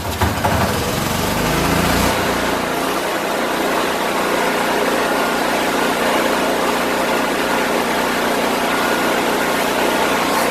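Yamaha YG6600DE 6.6kW off-grid generator engine running steadily, a loud continuous mechanical drone with a low hum throughout after a brief rougher start-up.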